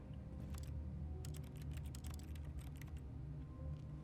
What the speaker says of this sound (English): When I press E, there's the sound of keyboard.